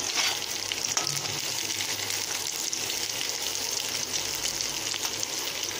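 Semiya upuma ingredients fry in a pan with a steady, close sizzle and crackle that runs without a break, with faint stirring and no voices.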